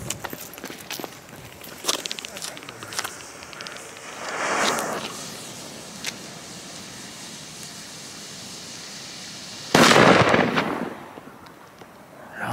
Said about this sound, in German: Böller hier vom Pyro-Union. Mal gucken, ob die was können hier.